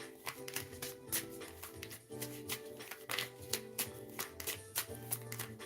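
A deck of tarot cards is shuffled close by in a continuous run of quick papery riffles and taps, rhythmic and soft, with no talking.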